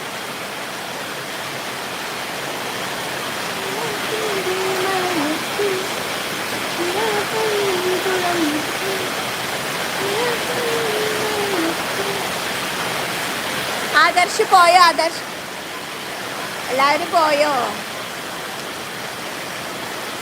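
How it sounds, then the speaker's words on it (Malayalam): Steady rain makes a dense, even hiss that fills the whole clip, while a voice calls out over it and a few brief bursts of clatter come close by near the end. "മഴയാണ് മക്കളെ മഴ"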